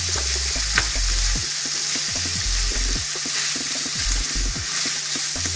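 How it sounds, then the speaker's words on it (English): Meat browning in a pan sizzles loudly and steadily, broken by repeated scraping stirs, with no one talking. "Brown up the meat a little"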